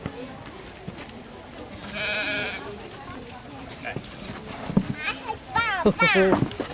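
A sheep on a farm bleats loudly and nearby in several wavering calls, with a hoof clatter in between and a second burst of bleats toward the end, while people talk over it.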